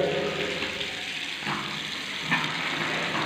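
Hot water runs strongly from a newly fitted bathroom shower in a steady, close, continuous rush with no talking over it.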